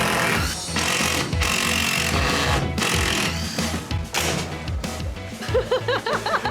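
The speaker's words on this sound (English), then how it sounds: "So if you just undo all the screws in the track." Power screwdriver loosening screws from a track during a home makeover, loud and close, with bursts of whirring and pauses, plus some muffled voices and a chuckle.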